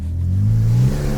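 A BMW M3 GTR engine with drive-by-wire throttle and a welded diff revs in a short, punchy blip, a deep close rumble rising briefly then dropping away.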